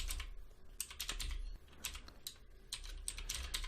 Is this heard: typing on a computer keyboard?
yes